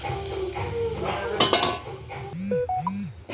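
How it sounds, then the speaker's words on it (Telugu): Ragi upma is stirred and fried in oil in a metal pan, with close clinks and scrapes of a spoon against the pan over a faint sizzle, plus a few ringing metallic knocks. "దీన్ని ఇప్పుడు మనం మంచిగా వేయించుకోవాలి"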